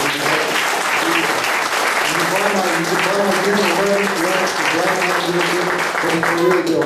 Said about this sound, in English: just give him a big round of applause